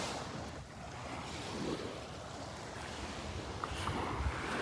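Waves wash onto the beach at Delnor-Wiggins on a morning walk, a soft continuous surf rolling in and out with gusty wind across the microphone, fairly faint and with no talking.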